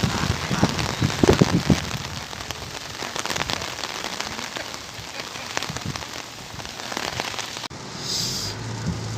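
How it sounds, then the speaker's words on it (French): Heavy rain pours down in Mauritius, a dense, steady hiss of drops hammering a surface nearby, with occasional louder splatters and a brief shift in tone near the end. "Il pleut très fort."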